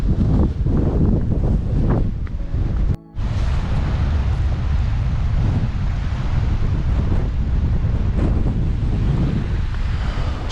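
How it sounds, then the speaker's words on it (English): Strong gusting wind roars across the microphone beside the River Roy in the Scottish Highlands, loud and continuous with a brief dropout partway through. "It's so windy."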